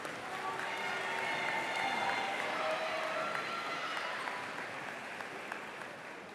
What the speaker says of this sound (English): let's give another round of applause to the Wind Ensemble and Choir